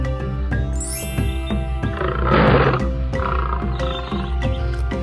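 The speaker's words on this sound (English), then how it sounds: "An adult male's roar can be heard for up to 5 miles or 8 kilometers away." An adult male lion roars loudly and close up, a deep drawn-out bellow swelling in the middle, set against a bed of tinkling, chiming music.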